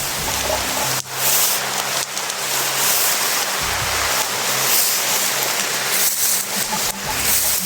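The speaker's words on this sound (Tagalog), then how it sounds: "Malakas na yung ulan" Heavy rain pours steadily, a dense broadband hiss of drops hitting surfaces, loud and continuous with a low hum running underneath.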